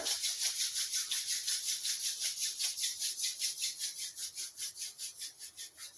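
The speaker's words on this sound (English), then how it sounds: "Rub your hands together." Palms briskly rubbing together in a yoga class, a steady rapid back-and-forth friction swish repeating evenly throughout, close and moderately loud with no talking.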